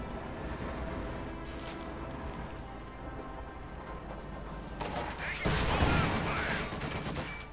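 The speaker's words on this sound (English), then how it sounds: "Quick engagement there with the Grenadiers, lots of nasty machine gun fire." Machine gun fire in a Company of Heroes 2 battle, a dense crackling rattle of rapid shots that swells louder near the end over a constant low rumbling game background.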